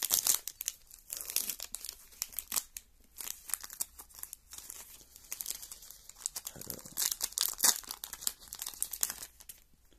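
A Pokémon promo card pack wrapper being opened by hand, with close, crisp crinkling and tearing of the foil in irregular bursts and brief quiet gaps between them.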